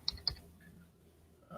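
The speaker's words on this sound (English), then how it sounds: "Hate typing while I'm on live here" A few quick keyboard clicks on a computer keyboard during a live wrestling talk stream, two sharp taps early then quieter scattered keystrokes, close and fairly soft with no talking.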